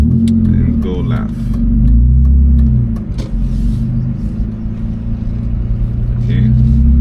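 A stick-shift car on a Florida road test is driven in first gear, its steady loud engine rumble running throughout, with an instructor's voice talking over it at points.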